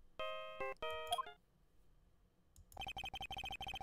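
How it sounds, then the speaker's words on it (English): A phone in the Phoenix Wright: Ace Attorney video game plays the Steel Samurai theme as a short electronic ringtone melody, then falls quiet before a run of rapid, evenly spaced beeps. "I know that song your phone plays when it rings."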